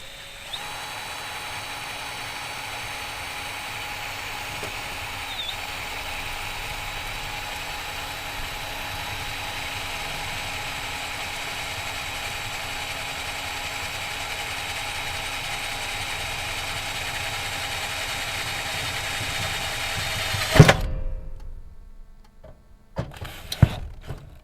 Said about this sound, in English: that's where I'm going to drill my hole